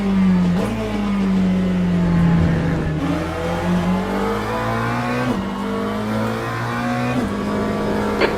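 McLaren 720S GT3 race car engine in Le Mans Ultimate, racing at Interlagos: a loud, steady engine note that climbs through the revs, with abrupt drops at each upshift, continuous and close throughout.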